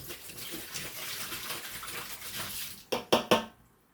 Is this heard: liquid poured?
yes